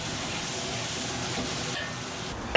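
Mustard stems tossed over high heat in a wok with dried shrimp, scallion pieces and scallion oil give a steady, close sizzle and hiss, with a faint clank at the very end.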